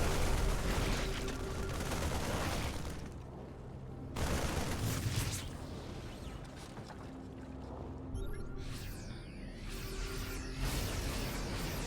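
Repeated heavy cannon blasts from Terran siege tanks in a StarCraft II match, booming shots and impacts over a dense battle mix of unit attacks and effects, with bursts clustered in waves across the stretch.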